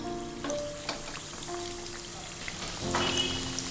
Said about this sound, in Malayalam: ഒരു മീഡിയം ഫ്ലെയിമിൽ ഇട്ടിട്ട് ഇത് വറുത്തെടുത്താൽ മതി